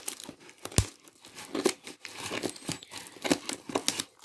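Cardboard parcel of small electronic components, dented in transit, being torn open by hand: a run of close rip and crinkle bursts, irregular and crisp, with a few sharper snaps and no talking.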